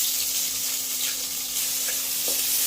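Chopped onions fry in a pan of hot oil with spices for a Bengali fish curry, giving a loud, steady hiss with occasional faint scrapes from stirring.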